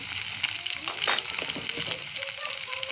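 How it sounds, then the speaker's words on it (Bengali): Potatoes fry in oil in a pan, giving a close, steady sizzle with a few stirring scrapes and clicks throughout. "এবার আলুগুলি দিয়ে ভেজে নেব"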